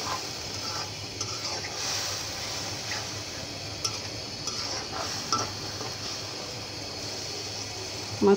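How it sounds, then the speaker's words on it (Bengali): A spoon scrapes and stirs dried lotia fish bhuna with onion and dry spices in a large wok, a soft steady sizzle running under faint clinks of metal. "এই সমস্ত ভুনা জিনিস করতে হলে একটু কড়াইটা বড় থাকলেই সুবিধা হয় নাড়াচাড়া করার জন্য"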